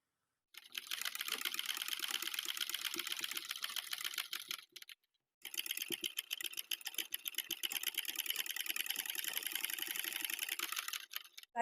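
A sewing machine runs in fast, rapid-fire stitching bursts while sewing the neckline of a plazo dress, with one short pause before it resumes at an even, brisk pace, close and clear.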